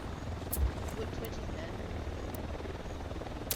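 Helicopter in the video game Ghost Recon Wildlands, a steady rotor drone throughout with faint players' voices over it.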